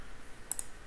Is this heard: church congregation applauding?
no